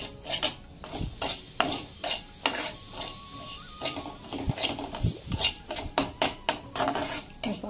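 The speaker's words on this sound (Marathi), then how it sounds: "त्याच्यासाठी थोडंसं जरा चांगलं व्यवस्थित हलवून घ्यायचं याला." Spoon stirring and scraping in a metal pan while dry-roasting ingredients until reddish, in a home kitchen; rhythmic clinks and scrapes repeat steadily throughout, close and moderately loud, with no talk.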